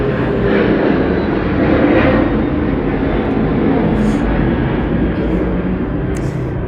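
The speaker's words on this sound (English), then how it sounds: "it's a little plane." A small airplane passes overhead in Sydney, a loud, steady droning engine rumble that fills the whole stretch without letting up, with no talking over it.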